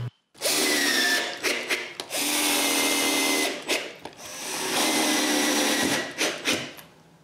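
A power drill boring a hole through wood to fix a part in place for a Christmas decoration stand, loud whining bursts broken by short pauses as the bit cuts and stops, no talk.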